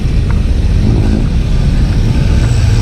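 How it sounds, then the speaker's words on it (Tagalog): Rush-hour traffic near the Clark main gate in Angeles City, Pampanga, Philippines: a close, loud, continuous engine rumble of cars and motorbikes moving past without pause. "Traffic dahil labasan ng mga nagtatrabaho."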